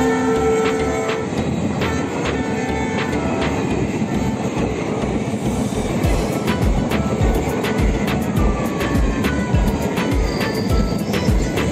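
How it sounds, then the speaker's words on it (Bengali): A train rumbles through a railway level crossing with the gate closed, its wheels clattering in a steady rhythmic beat, horn-like tones and squeals rising above the loud, continuous roar close by. "গেট বন্ধ, আমরা আটকে পড়েছি। ওই যে ট্রেন আসছে"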